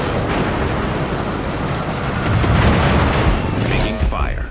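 Naval gunfire strikes a ship in World of Warships, a heavy, continuous rumble of booms and impacts that swells midway, with voice-like game sounds near the end.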